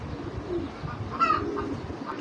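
A pigeon gives a soft, brief coo close by against a low murmur of background noise.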